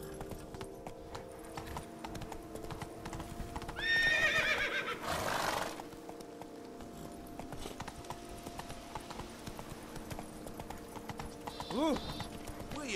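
A horse in The Witcher 3: Wild Hunt gallops with steady rhythmic hoofbeats, and a loud whinny rises over them partway through before a shorter neigh near the end, all against the game's background sound.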